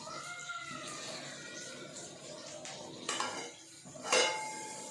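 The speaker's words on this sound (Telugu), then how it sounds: "మూత కూడా మూసేసాను." Lid set onto a cooking pot while making Telangana-style chicken fry, a few soft metallic clanks and scrapes of cookware close by, with a brief louder clatter near the end.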